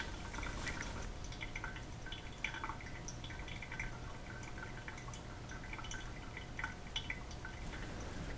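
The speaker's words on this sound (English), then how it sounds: "Okay, I'm going to continue the pour process" Water pours over coffee grounds toward 570 grams, with a soft continuous trickle and scattered small drips, quiet and close, with no talking.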